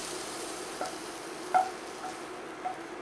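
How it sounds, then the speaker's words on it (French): Green peas cooking in a pan give a faint, low sizzle with a few soft stirring knocks and scrapes scattered across the moment, no voices present. "Puis on va faire cuire nos petits pois."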